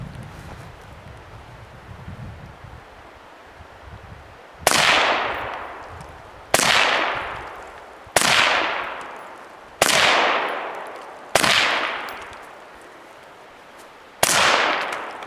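Seven sharp rifle shots ring out one by one at uneven intervals, aimed at targets up on a hillside. Each loud crack trails off in a long echo across open ground, and nobody speaks.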